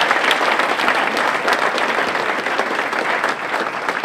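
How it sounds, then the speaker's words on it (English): Audience at a motivational speaking event breaking into loud, sustained applause, dense steady clapping from a large crowd filling the room throughout. "Give her another round of applause"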